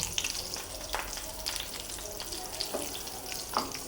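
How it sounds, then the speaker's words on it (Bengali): Eggplant slices frying in a pan, giving a constant close sizzle with intermittent crackles and light stirring sounds, no talk. "সকালে যে বেগুন আনলাম বাজার থেকে সেটা ভাজি করে দিতেছি"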